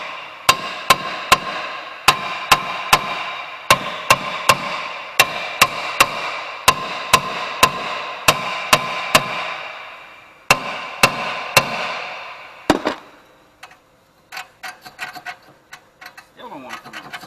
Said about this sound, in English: Still rusted on, so you take the hammer,